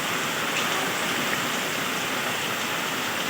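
A dense, unbroken roar of heavy rain and rushing water fills the air, steady and even throughout with no voices.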